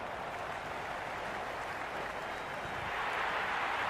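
A simulated stadium crowd in the cricket video game Cricket 26 applauds and roars steadily after a shot, a dense continuous wash swelling near the end, with commentary spoken over it.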